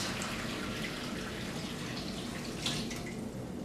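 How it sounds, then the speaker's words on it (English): Warm chicken broth poured through a strainer, a soft, steady trickle and splash of liquid running for a few seconds, fairly quiet with no voices. "I'm going to pour this through and strain it out."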